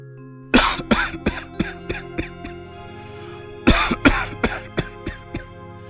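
Two fits of loud, close coughing, each a hard cough trailing into several weaker ones, separated by a short quiet gap.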